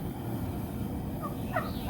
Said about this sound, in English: There goes one of the turkeys now.